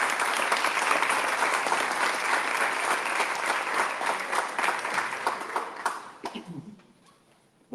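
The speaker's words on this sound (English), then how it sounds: "Let's give him a round of applause." Sustained applause from a crowd, steady and full for several seconds, then thinning into scattered claps and dying out.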